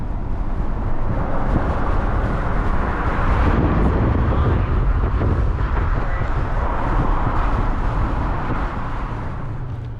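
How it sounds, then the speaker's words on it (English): Loud, steady northwest wind gusting around 30 mph in Fort Collins, Colorado, roaring and buffeting against the microphone for the whole stretch, with no let-up. "northwest winds 10 to 20 miles per hour with gusts around 30"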